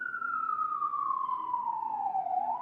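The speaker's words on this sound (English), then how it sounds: "those sirens are always going off" An emergency vehicle siren wails through the city, a single long tone gliding slowly downward and then starting to rise again at steady loudness. No voices.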